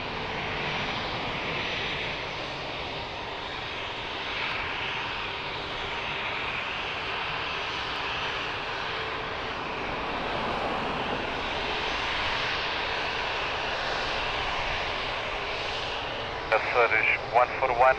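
Airliner jet engines roar steadily at Lisbon Airport during a takeoff on runway 02, a broad, continuous rumble heard from a distance for the whole stretch, with a few faint clicks near the end.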